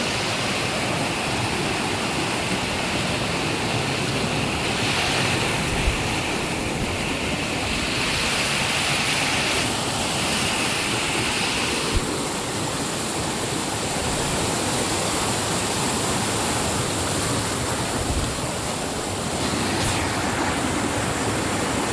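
Water rushes at Sahastradhara waterfall near Dehradun, a steady, loud, close roar that never stops for the whole stretch.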